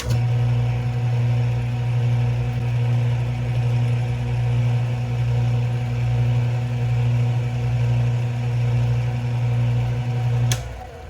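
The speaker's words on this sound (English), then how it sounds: "Let me turn off the lead screw drive first so you can just actually hear the headstock and the spindle." An Atlas 618 metal lathe headstock and spindle hum in a steady, even drone that carries on without change, then a brief click lands near the end.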